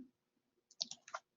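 A few quick, crisp computer mouse clicks close by in a quiet room while an option is selected in a search database, spaced irregularly over about half a second.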